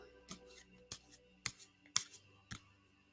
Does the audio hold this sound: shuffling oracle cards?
yes